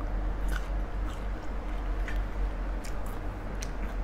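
Close, steady chewing and biting of sliced mango with a sweet fish-sauce dip, soft wet crunches and small clicks repeating over a low background rumble, no talk.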